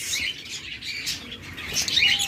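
A steady twittering of caged cockatiels, lovebirds, budgies and doves fills the space, with scattered high chirps and a brief flutter of wings close by.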